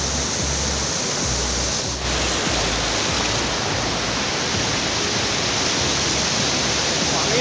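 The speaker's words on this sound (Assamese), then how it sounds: "পানীৰ সোঁত কিন্তু বহুত বেছি আছে।" Jackwell waterfall near Namrup sends a strong current roaring through a river channel. The heavy, steady rush of water fills the whole stretch close by, with no pause or voices.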